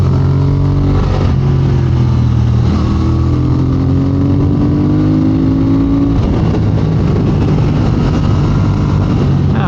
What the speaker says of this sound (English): It's a parallel twin,